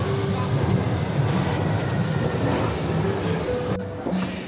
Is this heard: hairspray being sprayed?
no